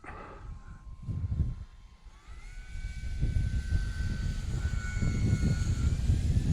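A Timber X radio-controlled airplane flying in to land, its motor a thin tonal whine that steps up in pitch and holds, over rumbling wind and outdoor noise, moderately near.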